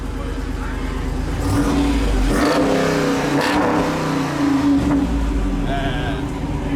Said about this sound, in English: Can you give it a little rev?